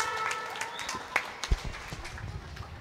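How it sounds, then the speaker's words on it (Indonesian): Applause from the audience at a student association chair candidates' debate, sparse scattered claps with a few louder hits, fairly faint and brief. "tepuk tangannya mana untuk paslon-paslon kita?"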